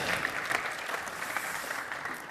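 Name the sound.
audience applause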